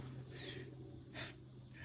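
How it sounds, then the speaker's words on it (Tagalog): Crickets chirping high on a mountain at Bukit Sipatir in Brunei: a few short, faint chirps stand out against a quiet, steady background hum. "Kuliglig. Ilang maririnig mo."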